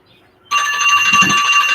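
A debate timer alarm goes off abruptly after near silence, a loud, sustained electronic beeping tone continuing steadily to the end with no one talking.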